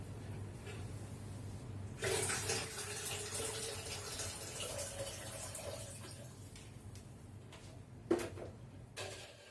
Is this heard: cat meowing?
no